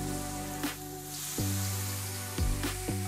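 Grilled jalapeno chicken hisses steadily on a hot grill as pieces are flipped, producing a continuous close sizzle with a few soft clacks and bumps of the turn.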